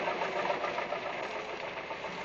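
A tractor engine runs on a test bench in Vietnam, giving a steady, fairly loud mechanical drone with a rapid knocking texture that continues unbroken and without voices.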